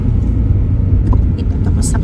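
Road traffic on a merging lane in New Zealand rumbles steadily as a loud, close car engine drones under continuous talking, with a few brief higher whooshes of passing vehicles.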